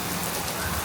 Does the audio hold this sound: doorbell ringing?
no